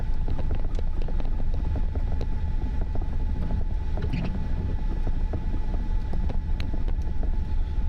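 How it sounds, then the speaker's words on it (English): Steady whirring drone of a power inverter's cooling fan in the back of a storm chase vehicle during lake effect snow in Indiana and Michigan, a constant turbine-like hum filling the cabin with broadband rumble. "That is the power inverter in the back."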